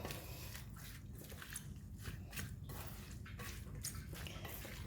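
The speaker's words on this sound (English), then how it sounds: "and now we can mix it" Spicy corn salad being tossed in a bowl, giving soft, wet squishing and scraping sounds close by and fairly quiet, with no talking over them.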